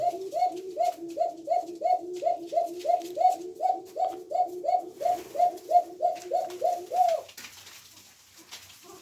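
Pet pigeons cooing in a steady, rhythmic run of about twenty near, repeated coos over several seconds, then fading to quiet.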